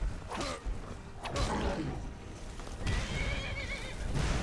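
A horse in a video game whinnies loudly several times over rhythmic clip-clopping hooves, the calls rising and falling across a few seconds with no speech.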